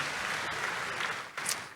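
A church congregation applauds during a sermon, a brief burst of dense clapping that carries on steadily for under two seconds.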